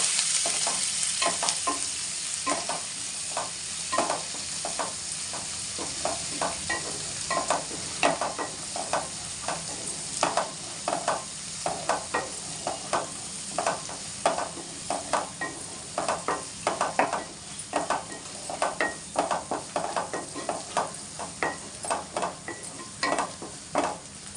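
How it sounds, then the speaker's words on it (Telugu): Crushed ginger, garlic, cumin and green chillies fry with a continuous sizzle. A spoon scrapes and knocks against the pan in quick repeated strokes that keep coming for the whole stretch, and no one talks. "అల్లం, వెల్లుల్లిపాయలు, జీలకర్ర, పచ్చిమిర్చి వేగేద్దాం ఫ్రెండ్స్"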